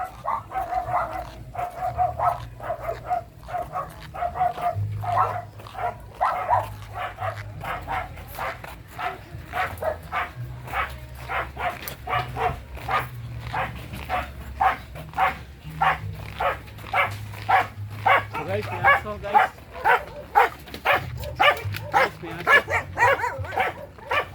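A dog barks repeatedly in quick, rhythmic bursts, close and fairly loud, with occasional whimpers and yips between the barks.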